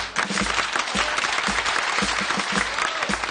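A studio audience bursts into sustained, dense applause for a woman volunteer on a comedy show, loud and steady throughout with occasional deeper thumps underneath, no voices rising above it.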